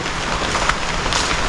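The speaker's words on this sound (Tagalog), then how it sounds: "Ngayon ay medyo malakas na ang ulan." Steady, dense hiss of heavy rain from a typhoon pouring down, loud and constant throughout with no voices.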